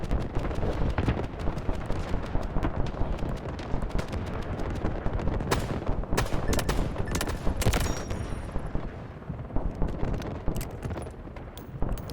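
Rapid gunfire from a .357 revolver in the shooter game Delta Force, with loud repeated shots and bursts layered over dense, continuous battle noise and explosions.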